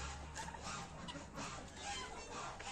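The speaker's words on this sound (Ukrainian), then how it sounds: "Курчатка маленькі ростуть, курочки несуться, підростають, цесарки на місці, гуси також" Farmyard chickens cluck softly among geese, guinea fowl and young chicks, a faint, steady outdoor murmur with no talk.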